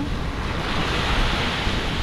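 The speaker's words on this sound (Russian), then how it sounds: "Волна!" Ocean waves break on a beach in a steady, loud, broadband wash of surf, close by and continuous, with wind buffeting and no voices.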